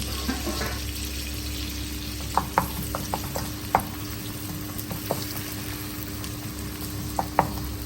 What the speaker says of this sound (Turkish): birazcık böyle soğanlı yağla beraber böyle harmanlıyoruz. Karıştırıyoruz yani.